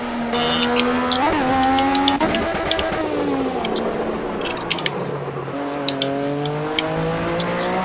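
A racing car engine in the video game Project Cars with a failing gear shift, its steady, loud drone rising and falling in pitch with revs, plus brief dips and surges where shifts should happen.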